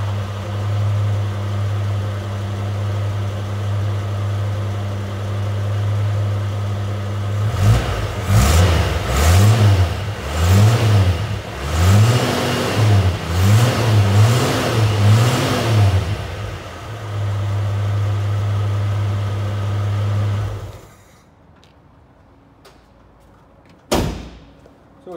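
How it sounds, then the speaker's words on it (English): A 1983 Jeep CJ-8 Scrambler idles steadily, then revs repeatedly in smooth rising and falling surges through a quiet-toned exhaust, settles back to idle, and shuts off, followed by a sharp door slam. "It's got a nice quiet tone from the exhaust."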